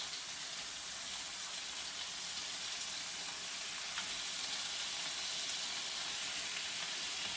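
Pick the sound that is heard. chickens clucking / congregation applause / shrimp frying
shrimp frying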